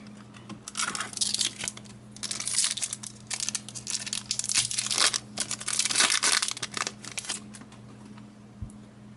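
Foil booster packs of Japanese Pokémon Dragon Blast cards are torn open and handled, giving dense, continuous crinkling and tearing up close with no talking.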